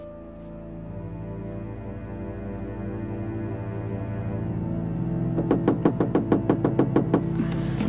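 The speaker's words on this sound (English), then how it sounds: "Somebody's at the door." A rapid series of about a dozen sharp knocks on a door in the video game Gabriel Knight 2, arriving in the last few seconds over a steady low ambient hum.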